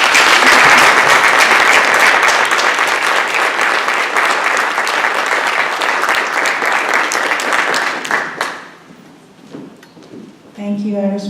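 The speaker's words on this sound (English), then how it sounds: "let's hear a rousing round of applause for the Georgia State School of Public Health Fall Class of" Loud, sustained applause from a convocation audience for the Georgia State School of Public Health Fall 2015 graduating class, dense clapping for about eight seconds before fading to scattered claps and murmurs.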